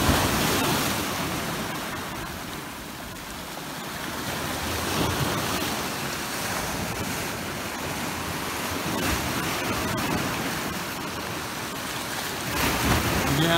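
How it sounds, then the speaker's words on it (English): Ocean waves at the beach wash in a continuous loud roar of surf, swelling and easing gently, with some wind buffeting the microphone and no voices. "I just love the sound of the ocean, so I'm gonna let you guys listen to the ocean for a little while"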